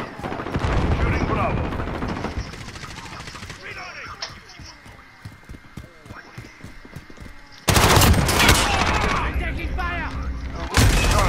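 Rapid automatic gunfire from Call of Duty Modern Warfare hardcore domination play, loud bursts that thin out midway then return dense and close, with talk over parts of it.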